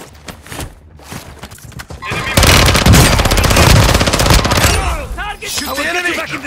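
Dense rapid automatic gunfire in Call of Duty Warzone 2, a loud sustained burst kicking in after a quieter stretch, with a voice talking over the last part.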